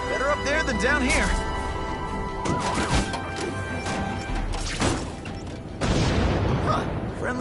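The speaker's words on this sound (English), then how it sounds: "Friendly neighborhood fireworks." Fireworks bursting in a Spider-Man video game: a run of loud booms and crackling blasts over game music and effects, with voices talking through much of it.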